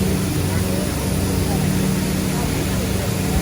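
A boat engine drones steadily and loudly throughout a boat tour near Modalen waterfall, with broad rushing noise and no pauses.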